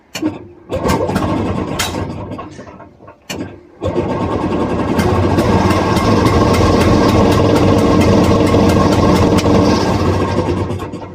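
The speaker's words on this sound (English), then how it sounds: "I started the engine and it was idling fast enough" An old Penguin vehicle engine cranks and catches after a couple of short starts, then settles into a loud, steady fast idle that runs close by to the end.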